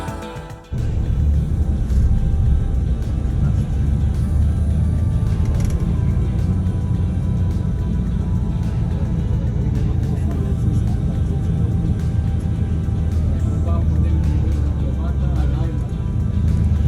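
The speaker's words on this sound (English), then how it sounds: "Right now we're driving up to the Baha'i Gardens." A car climbs the road up to the Baha'i Gardens in Haifa, producing a loud, steady low rumble of engine and tyre noise that continues without a break.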